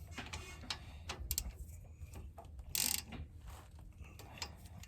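A ratchet with a 13 mm socket snugs down a rear brake bolt on a 2009 Jeep Wrangler, giving scattered quick clicking bursts and mechanical ticks with short pauses, near and fairly quiet.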